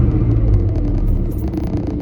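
A 1995 Volvo 960 engine gets a throttle blip during a fuel pressure test, a close, low rumbling engine note that rises briefly and then settles back, loud and heard alone.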